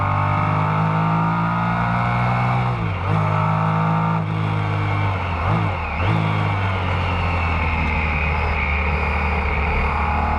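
A 1969 Porsche 917K race car at speed during a historic racing event, its loud engine roaring continuously with brief lifts and re-acceleration, no talk.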